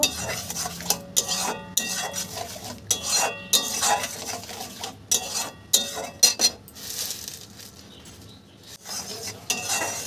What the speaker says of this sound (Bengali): এবার চিনিটাকে ভালো করে তেঁতুলের সাথে মিশিয়ে নেব